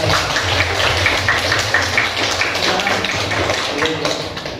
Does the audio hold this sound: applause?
yes